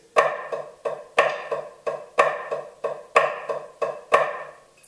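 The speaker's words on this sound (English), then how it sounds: "to make that into flam accents, all you do is add a grace note to the downbeat or to the accent" Snare drum playing flam accents, each accented stroke preceded by a quick grace note, in a steady repeating rhythm of sharp, close, dry hits with no other sounds.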